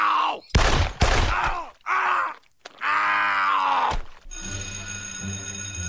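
A cartoon gunshot from South Park as a character shoots himself in the mouth: sharp, loud broadband cracks near the start, framed by groaning vocal cries, then a steady tonal hum.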